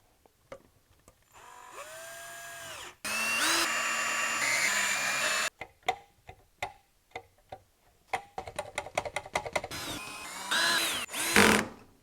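A power drill driving small screws whirs in repeated bursts of varying length, revving up and down with short pauses and clicks between runs.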